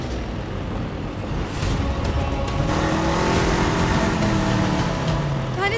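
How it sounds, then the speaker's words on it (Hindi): A scooter engine revs and speeds up, its loud motor note rising steadily over a few seconds with a continuous roar, no talk over it. "बुलबुल तुम गाड़ी की स्पीड क्यों बढ़ा रही हो?"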